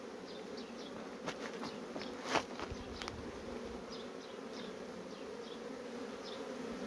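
Honeybees flying and buzzing around a hive at an apiary during the first nectar flow, a steady low swarm hum with individual bees droning close past now and then.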